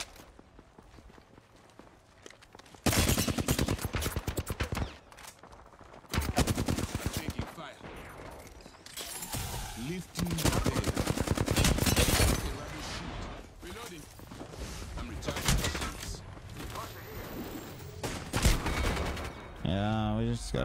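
Rapid gunfire bursts in an Apex Legends ranked match, loud repeated volleys with short gaps, mixed with in-game effects and footsteps, while a player talks over the action.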